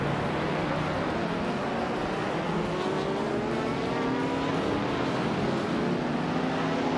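A 1963 Brabham BT3 race car engine in a racing video game: a continuous, fairly loud drone of revving engine tone that slowly climbs in pitch, with no talking.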